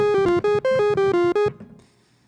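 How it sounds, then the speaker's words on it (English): Chiptune square wave synth melody with its high frequencies cut by EQ, about eight short bright notes in quick succession before trailing off into faint residue; clear and alone. "hearing this square wave over and over and over and over again is gonna get"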